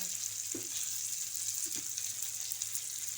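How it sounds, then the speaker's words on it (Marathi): Eggplants frying in oil in a pan for a Marathi stuffed eggplant dish, with a steady, close hiss and sizzle throughout and a couple of soft knocks. "आता ही वांगी ही दुसऱ्या बाजूने शेकूया"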